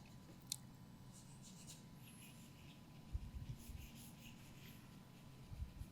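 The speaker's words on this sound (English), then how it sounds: "the charcoal pencil is just indicating a slight shadow underneath." A charcoal pencil drawing on paper: faint, soft scratchy strokes, quiet and close, with light irregular scraping bursts and no talk.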